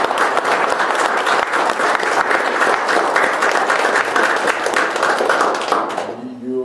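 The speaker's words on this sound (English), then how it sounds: "Please join me in giving them a round of" A college audience at a portrait dedication ceremony gives sustained, fairly loud applause, many hands clapping densely and evenly before it tapers off, with a voice emerging at the end.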